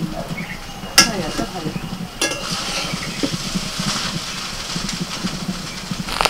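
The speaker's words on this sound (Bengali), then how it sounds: "এগ রাইসটা ভাজা হয়ে গেছে," Egg fried rice stir-fried in a pan, with a steady low sizzle and occasional sharp clinks and scrapes of a spatula against the pan.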